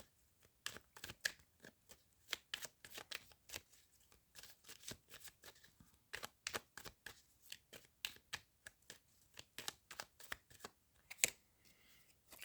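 Magic cards being shuffled by hand, quick crisp riffles and flicks in irregular bursts, close and fairly quiet against a silent background.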